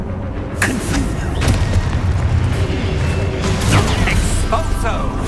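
A booming magical blast from the Confringo spell in Hogwarts Legacy erupts after a short quiet start, followed by rumbling, crackling bursts that stay loud and dense.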